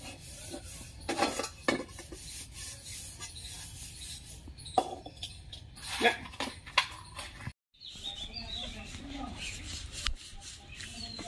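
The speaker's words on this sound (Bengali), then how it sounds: "মা বসে গেছে থালা বাসন মাজতে" Plates and utensils being scrubbed in a home kitchen, with bursts of rough rubbing and scraping separated by quieter gaps, fairly close and without talk over it.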